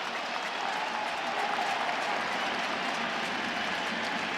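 A baseball stadium crowd at a Blue Jays–Yankees game cheers on the pitcher with an 0-2 count, a sustained loud roar and clapping that holds steady throughout with no pause.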